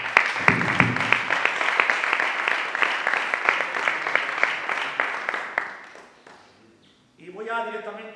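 A church congregation claps loudly together for several seconds, the applause fading out before a person begins speaking.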